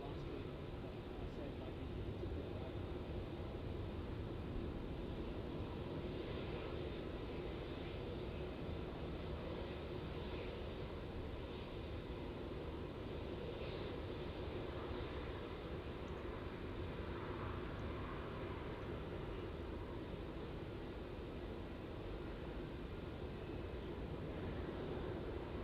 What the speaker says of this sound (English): And there we go, Qantas 737, slowing down there on 3-4